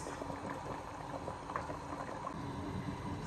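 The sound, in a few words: goat meat pepper soup boiling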